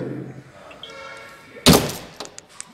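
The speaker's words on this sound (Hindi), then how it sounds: "तो चलिए क्लोज कर लेते हैं अब इसके टेलगेट को" Tailgate of a Tata Tiago XT Limited Edition hatchback swung shut, a single loud solid thunk with a brief rattle after, following quieter talk and handling noise.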